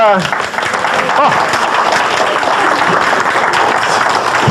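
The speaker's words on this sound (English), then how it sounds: "You got a round of applause here on Sunday morning" A Sunday morning audience breaks into a round of applause, a voice briefly heard at the start before broad, steady clapping fills the rest.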